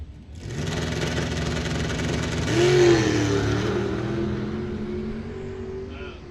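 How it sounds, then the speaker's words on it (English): A Mopar-powered dragster and a Big Block Chevy-powered dragster race side by side down the strip at Coles County Dragway in bracket racing, a loud, sustained engine roar swelling to a peak midway and then fading. "His Mopar powered dragster alongside Big Block Chevy power"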